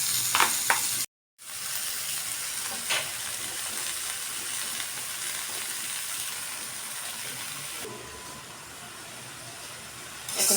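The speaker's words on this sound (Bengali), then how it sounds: "মশলা কষানো শেষ, এখন পাতাগুলো দিয়ে দিব।" Steady close sizzle and frying hiss as bottle gourd leaves go into a pan of fried spices, with a brief dropout early on and occasional stirring scrapes, continuous and fairly loud.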